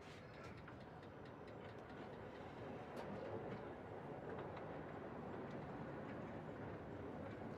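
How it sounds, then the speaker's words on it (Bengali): An amusement park ride train at a solar-themed park in Tangail coasts slowly to a stop, giving a steady, dense rumble and rattle of cars on rails that stays fairly loud and continuous throughout, with no talk. "এর জন্য এই রেলটা এখন আস্তে আস্তে আসবার নিচে"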